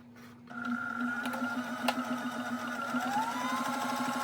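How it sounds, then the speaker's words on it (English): A sewing machine runs steadily while stitching patchwork jeans, giving a close, continuous mechanical whir with a rapid rhythmic chatter, and no talk. "I just finished sewing."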